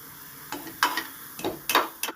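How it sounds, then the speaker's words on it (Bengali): Kachoris made with flattened rice and peas fry in oil in a wok, a low close sizzle punctuated by several brief scraping and clinking touches of a spatula. "আপনারা দেখুন আমি ভাজছি"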